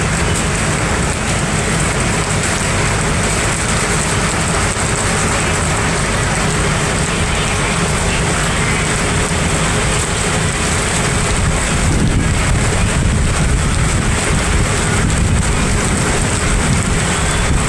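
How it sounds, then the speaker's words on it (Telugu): Heavy rain pours down steadily near coconut trees, a loud, dense, unbroken roar that fills the whole stretch, with no voices over it. "ఇప్పుడు చాలా పెద్దగా వర్షం కురుస్తూ ఉంది."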